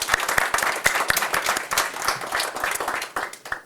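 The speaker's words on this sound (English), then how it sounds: "So let's give her a big round of applause too." Audience applause at a school board meeting in Janesville, Wisconsin: a dense, steady round of clapping from a seated crowd that fills the whole stretch, with a few sharper individual claps standing out near the start.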